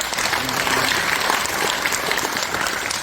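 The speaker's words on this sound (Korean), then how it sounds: "박수로 맞이해주시기 바랍니다." An audience at a formal ceremony where guests are being introduced claps steadily, a dense burst of applause from a crowd with no voices standing out.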